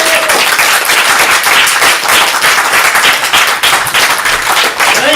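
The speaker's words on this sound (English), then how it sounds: "John, give a round of applause." Loud, dense audience applause and clapping at a comedy showcase, sustained for the whole stretch with no talking.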